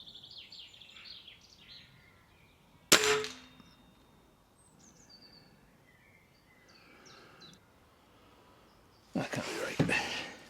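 A Stoeger RX20 TAC spring-piston air rifle fires twice outdoors, each a sharp close crack with a short ring. Birds chirp in the background and quiet stretches fall between the shots.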